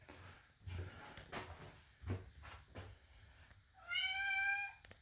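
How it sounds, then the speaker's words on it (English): A barn cat meows in a short series of close, fairly quiet cries, with a clear drawn-out meow near the end and some soft knocking and handling sounds around it. "He's supposed to be a barn cat."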